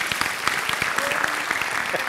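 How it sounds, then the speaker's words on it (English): A conference audience gives a round of applause, with close, distinct hand claps layered over a dense, steady patter that holds throughout. "Give her a round of applause for real now"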